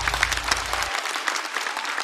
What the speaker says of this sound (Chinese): 再次掌声送给2位。